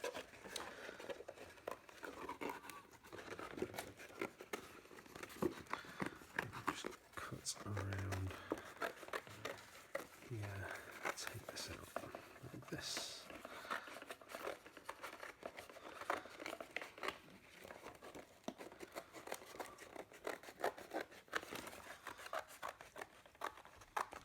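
Scissors snip and crinkle through stiff card in a run of short cuts, close by, while a person keeps talking over the cutting.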